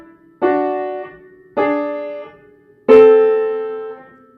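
Three piano dyads from a beginner children's lesson on Malagueña, struck one at a time with pauses between them, the last ringing longest; close and clear, with no talking.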